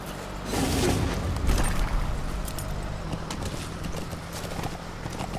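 Horse hooves clip-clop steadily across the ground in Metal Gear Solid 5: The Phantom Pain, a continuous trotting rhythm over a low rumbling background.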